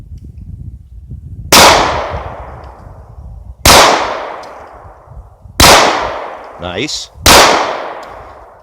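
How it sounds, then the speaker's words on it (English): Four sharp gunshots from a Taurus PT-111 G2 9mm pistol ring out at an outdoor range. Each crack hits loud and close and decays quickly, spaced about two seconds apart, with a brief spoken remark between the last shots. "I'm going to try out my dad's PT-111 G2 Taurus 9mm that he just shot"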